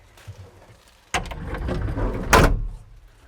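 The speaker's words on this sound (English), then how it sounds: "Let me close my door again." Kubota 95-2s excavator cab door swinging shut, a sharp close-range thud with a rattling latch near the middle, followed by a second louder clunk and brief ringing decay, with no talk.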